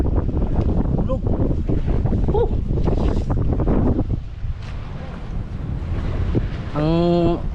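Large wooden outrigger boat out at sea, with heavy wind buffeting and rushing water dominating, voices talking loudly over it, and a brief rising whistle-like tone near the end.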